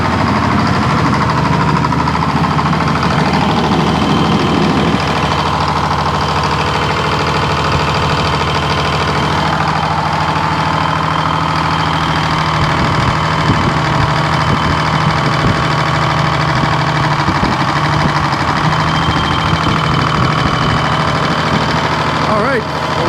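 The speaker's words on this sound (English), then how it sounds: "So we're gonna get the blade spinning here. That way the hydraulics will get a little bit warmed up." A sawmill engine runs steadily in cold weather with its blade spinning to warm the hydraulics, a loud continuous mechanical drone with a low idling rumble throughout.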